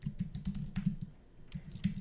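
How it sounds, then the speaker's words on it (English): Rapid typing on a computer keyboard during a coding session, close and clattering, in bursts of key taps with a short pause midway. "so my typing."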